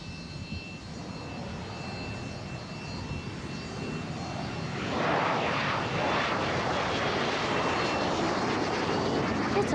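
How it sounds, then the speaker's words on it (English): A jet aircraft engine roars, building from a rumbling hiss into a louder, broader roar about halfway through and holding there. It is loud and continuous, with no break. "Yes, jet engines are loud."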